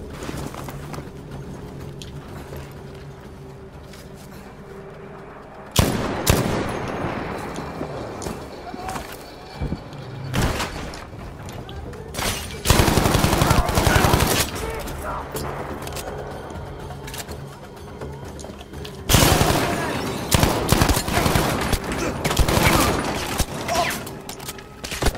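Battlefield 5 gunfire erupts in loud, dense bursts of rapid shots, clustered in several heavy volleys between quieter stretches of in-game ambience, with players talking over the action.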